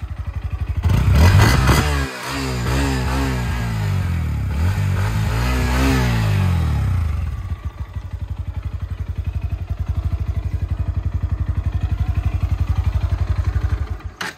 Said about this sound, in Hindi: एक बार आप चेक करो कि भाई आपको कैसे लगी इस बाइक की एग्जॉस्ट नोट